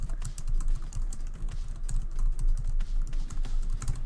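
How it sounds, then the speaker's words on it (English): Steady typing on a new, slightly quieter computer keyboard, with a close and continuous patter of keystrokes and no one speaking. "I got a new keyboard. It's slightly quieter."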